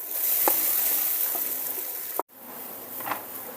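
Ground coconut mixture for drumstick leaf thoran fries in a clay pot over mustard seeds and rice, producing a steady near sizzle with a few soft pops and stirring taps and a brief cut midway.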